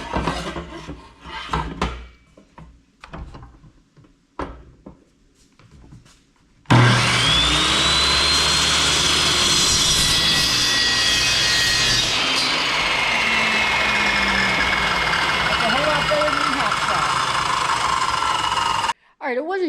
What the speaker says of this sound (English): Put an aluminum cutting blade on it, put it to the side, drag it out when you gotta cut 80/20 extrusion aluminum.